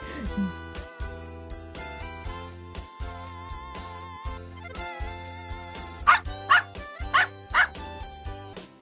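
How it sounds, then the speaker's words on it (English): A dog barks several times in quick succession near the end, standing out over a lively instrumental music track in an animated children's lesson. "Dog."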